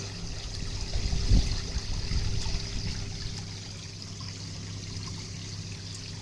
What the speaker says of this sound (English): quite some water over the shower.